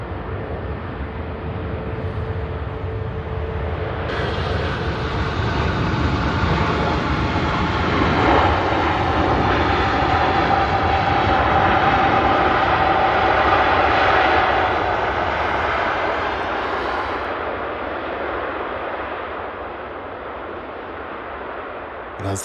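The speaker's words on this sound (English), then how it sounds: "as the Emirates 380 rolls out" An Emirates Airbus A380 rolls out on the runway at Manchester Airport, its engine roar swelling from a steady rush to a loud peak before gradually fading, with a distant low drone behind it.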